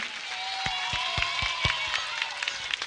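Applause from the audience at the Milli Model School annual function: a steady wash of clapping with a few sharper individual claps standing out, plus faint tonal sound in the background.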